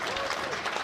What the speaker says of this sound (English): that man, Alex Wiles, gets a big round of applause as he makes his way off the pitch